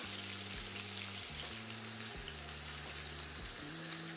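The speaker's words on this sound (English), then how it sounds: "Now for a little ASMR sizzling action." Pork chops searing in a pan give a steady, close sizzle and frying hiss that carries through the whole stretch with no speech.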